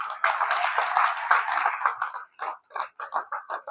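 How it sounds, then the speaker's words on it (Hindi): An audience at a Hindi kavi sammelan poetry recital claps: a dense wash of applause that breaks into scattered, separate bursts of clapping as it dies away. "आप लोगों को तालियां बजानी ही होगी"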